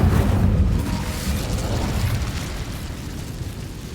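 The Incendio fire spell is cast in Hogwarts Legacy: a loud, deep whooshing burst of flame that erupts at once and then settles into a steady roaring rumble.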